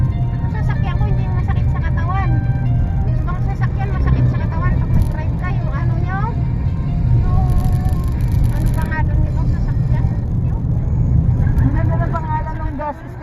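A car drives along a rural road lined with rambutan trees in Candelaria, Quezon, its engine a steady hum under constant conversation inside the cabin.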